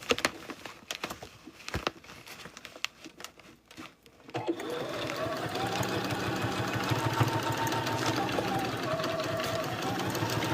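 A sewing machine back stitches a boxy bag: after a few seconds of handling thumps and rustling, the motor starts and hums in a steady, fast, close-up stitching run to the end.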